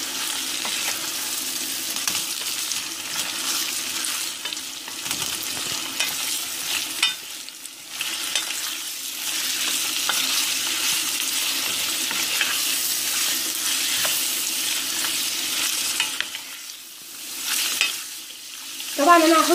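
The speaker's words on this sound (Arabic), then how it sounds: "كده الكبده اتشوحت معايا خلاص واستوت" Liver sautéing in a pan throws off a loud, continuous hiss of sizzling fat. Occasional stirring scrapes and shifts in intensity come through, and no one talks.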